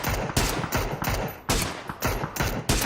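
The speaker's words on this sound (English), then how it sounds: "Right now, they're shooting at the field" Bursts of automatic gunfire in PUBG during a competitive esports match, with players shooting across an open field: loud, close, repeated rapid volleys of about eight bursts in steady rhythm, heard alone with no talking.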